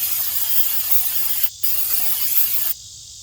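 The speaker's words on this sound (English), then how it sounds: "And brake cleaner." Aerosol brake cleaner sprayed onto the brakes of a Honda CR-V, a close, loud continuous hiss with a brief break partway through before it cuts off, no talking.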